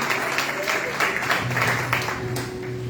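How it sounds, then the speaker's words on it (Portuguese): A church congregation claps together in worship, a dense continuous patter of hands with a low sustained tone and some voices mixed underneath. "e que as palmas louvam ao Senhor"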